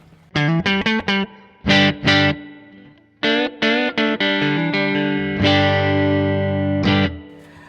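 Electric guitar chords through a Quad Cortex played in short bursts, then a long sustained ring, with a wet, splashy spring reverb trailing each strike.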